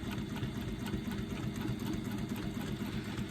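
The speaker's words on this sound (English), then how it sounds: "I'm going to stitch along the bottom using a 1/4 inch seam allowance" A sewing machine runs continuously, stitching card slots onto a wallet lining, giving a steady close whirring hum with fast rhythmic needle chatter and no talk.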